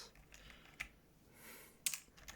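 A few keys on a broken computer keyboard are pressed, giving sparse soft clicks at close range over a faint background hiss, with no talking.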